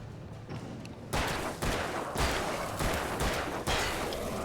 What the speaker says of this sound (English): I tried to switch to the flashbang, but I guess I tapped the right bumper slightly too soon. And so we fired instead.